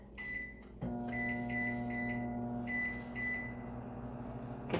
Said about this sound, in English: I'm going to microwave it for 3 minutes. So, I'm going to set my timer.